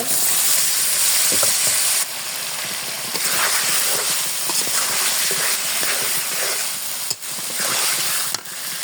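Loud, steady sizzling of spiced meat and potatoes frying in a pan, with occasional clinks and scrapes of stirring throughout.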